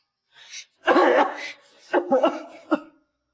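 A man coughs in several harsh, broken bursts, close and fairly loud, with short pauses between the fits.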